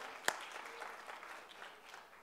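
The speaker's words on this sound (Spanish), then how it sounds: "Pongo un aplauso a Dios por nuestro grupo de adoración" Applause breaks out in a church for the worship group, opening with one sharp clap and settling into a soft, scattered patter of hands that fades over two seconds.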